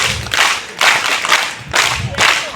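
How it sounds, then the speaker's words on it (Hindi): Applause at a state-level tribal Scout Guide festival award ceremony, a crowd clapping steadily in several surging waves, fairly loud and close, with no talk over it. "तालियां बजती रहे।"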